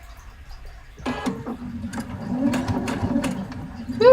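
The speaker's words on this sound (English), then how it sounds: "Put my needle down. Lift my presser foot, and let's try this again." A sewing machine stitches an Orla dress in short bursts of mechanical whirring and needle clatter that start, pause and restart, fairly close and moderately loud, with no voice over it.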